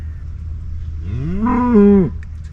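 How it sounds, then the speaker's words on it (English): A riled-up cow or bull on the Missouri River bank lets out a single drawn-out moo that rises, swells and then breaks off, heard fairly close over a steady low background rumble. "It's a cow or a bull."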